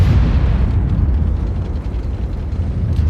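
Tank cannon fire in the video game World of Tanks, heard as a loud, deep, continuous rumbling boom that fills the whole moment without clear separate shots.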